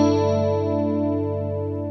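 A sustained guitar chord played through a BOSS CE-1 Chorus Ensemble effect with a low chorus rate rings out with a shimmering, slowly wavering chorus, decaying gently over a couple of seconds.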